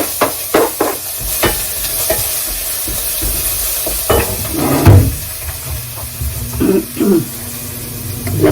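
Aromatics sautéing in a pan crackle and hiss steadily up close, with frequent spatula clicks and scrapes and a few louder stirring bursts.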